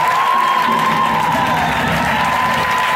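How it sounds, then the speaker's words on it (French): A church congregation cheers loudly to acclaim God, a dense sustained roar of voices with clapping and shouts that stays strong throughout, close and overwhelming. "On va acclamer Dieu très fort."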